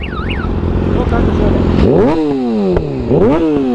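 Motorcycle engine revved hard at a fuel station, rising and falling roars with sharp exhaust pops and crackles on the throttle lift, close and loud, with people talking.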